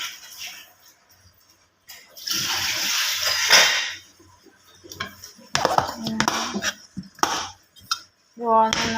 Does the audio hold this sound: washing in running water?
yes